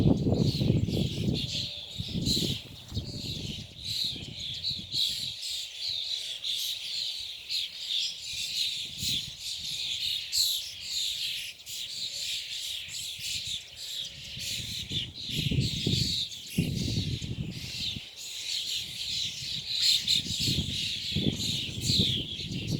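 Birds sing loudly during mating season in dense, overlapping chirps and tweets that continue throughout, over a low, uneven outdoor background rumble.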